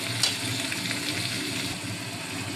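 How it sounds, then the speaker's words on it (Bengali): Tomato and green chilli frying in a pan for a kabuli chana ghugni: a steady, moderately loud sizzle with a brief clink near the start and no voices. "এবার এটা লাল লাল করে ভাজতে হবে"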